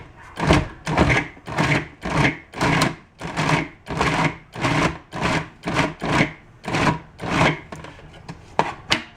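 A food processor pulses in a dozen or so short, even bursts, each a loud whirring chop with brief pauses between, chopping the contents into quarter-inch chunks up close.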